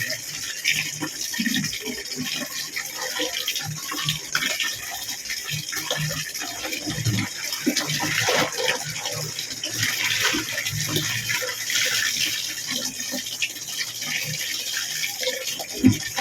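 Clothes are washed by hand in water, with steady running and sloshing water throughout, close and fairly loud, with occasional splashes over a constant wet hiss.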